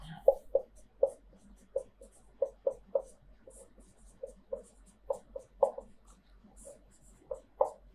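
Chalk taps and scrapes against a blackboard during a Hindi-medium physics lecture, short strokes arriving in an irregular rhythm, fairly close and clear, with no talking over them.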